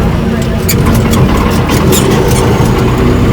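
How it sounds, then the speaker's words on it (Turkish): A John Deere 5105 tractor, 105 horsepower, idles with a steady low rumble close by, while a person talks over it. "Traktörümüz John Deere 5105 105 beygir"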